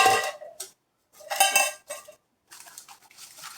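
A Snow Peak 900 ml titanium pot holding stove gear is handled up close, with bright metallic clanks and rattles in several short bursts separated by silent gaps.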